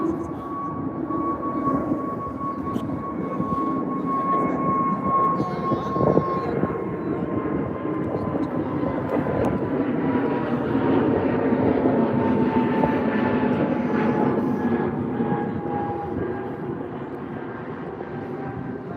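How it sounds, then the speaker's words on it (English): A British Airways Airbus A320 departs Heathrow bound for Paris, its engines roaring steadily and loudly throughout, with a sustained whine riding over the broad rumble. "British Airways here on the A320 off to Paris."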